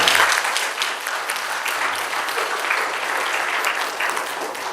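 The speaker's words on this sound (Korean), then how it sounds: "영광의 박수를 한번 돌려드리겠습니다" A church congregation at a Korean Sunday service claps in praise, a loud, dense burst of many hands that starts strong and holds steady throughout.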